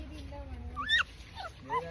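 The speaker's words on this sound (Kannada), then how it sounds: "ನಾನು ಸಾಕಿರೋ ನಾಯಿ ಇದು" A household dog with a fresh litter of six newborn puppies gives soft whimpers and a few short high yips in bursts, close by, with low background murmur.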